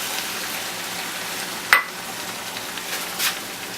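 Marsala wine and sherry going into a pan of sizzling mushrooms for chicken Marsala, a steady soft sizzle with a sharp clink of utensil on pan and a brief hiss burst.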